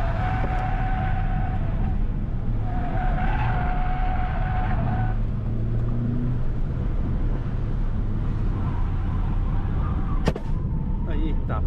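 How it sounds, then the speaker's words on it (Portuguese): In a racing video game, a car's engine drones while its tires screech in long skids, and one sharp bang near the end suggests a tire blowing out. The sound is loud and continuous. "Eita, estourou o pneu."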